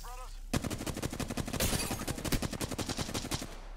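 Rapid automatic gunfire in Apex Legends, a fast, steady string of loud close shots lasting several seconds, with a brief voice at the very start.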